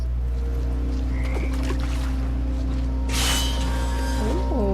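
Toads croaking in a continuous chorus, steady low trilling calls layered together, close and loud, with a brief hissy burst partway through.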